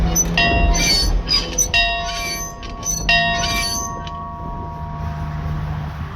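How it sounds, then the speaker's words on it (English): A large bell tolls three times in slow succession, each ringing strike loud and resonant with a long humming decay that lingers and fades into a quiet, dark ambience. "For whom the bell tolls."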